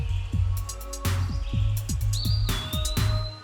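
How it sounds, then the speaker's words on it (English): Busy bird calls and chirps overlap constantly, with sharp repeated squawks over a rhythmic, low pulsing background and a thin rising whistle. "These colorful birds are vocal, gregarious, and highly social."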